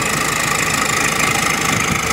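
A 29-year-old Tamaraw FX with a converted turbo engine and a schedule 40 street pipe runs steadily at idle, its dense, even mechanical rumble and faint knocking holding constant throughout, close and loud with no talking.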